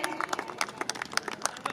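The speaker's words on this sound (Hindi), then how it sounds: "मैं चाहूंगी एक बार पुनः जोरदार तालियों से स्वागत।" An audience claps to welcome the chief guest, Acharya Balkrishna, at a Gurukul Dev Rishi school event in Meerut; a run of sharp, irregular hand claps sounds fairly close and moderately loud.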